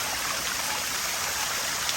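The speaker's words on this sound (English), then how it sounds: "here is our fairy garden. It's 11 different waterfalls." Water pours steadily through a fairy garden of eleven small waterfalls at night, a constant close splashing rush with no voices.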